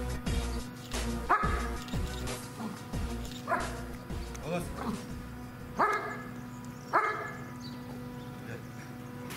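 Police service dogs barking at a canine training centre, a series of loud, close barks and yips spaced a second or two apart over a steady background hum.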